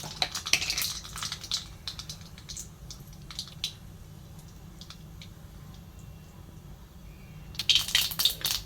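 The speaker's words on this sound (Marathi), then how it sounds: "इथे थोडीशी मोहरी टाकून घेते" Mustard seeds dropped into hot oil for tempering a dill and moong dal vegetable dish, giving scattered light crackles and pops with a brief louder burst of spluttering near the end over a low steady hum.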